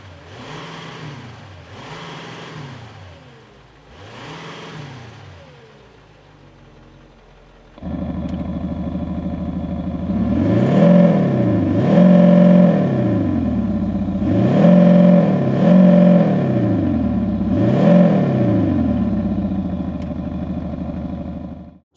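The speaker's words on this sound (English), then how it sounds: "This has been touched by Quicksilver exhausts, and it means it now sounds something like this." A diesel Bentley Bentayga fitted with a Quicksilver exhaust revs alone and close by, first a few softer blips, then a louder run of repeated rising and falling revs that end abruptly.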